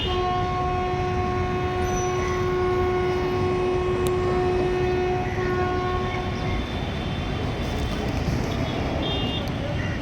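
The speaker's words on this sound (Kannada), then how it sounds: "ಅಲ್ಲಿ ಇನ್ನೆರಡು ಟ್ರೈನ್ ಹೊರಡ್ತಾ ಇದೆ" A long express train rumbles steadily past at close range with a constant roar, while a sustained horn blast sounds through the first half before fading out, and faint clanking carries under the noise.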